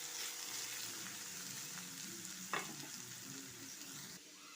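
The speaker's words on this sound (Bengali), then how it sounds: "দিয়ে আবার একটু এটা নাড়িয়ে দেব।" Flattened rice pulao frying in a pan with turmeric and salt as it is stirred, a steady close sizzle with scraping strokes and one sharp clink of the utensil.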